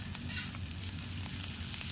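Chopped onions and chilies fry in hot oil with a dense, steady sizzle and crackle, close and continuous, with no voices.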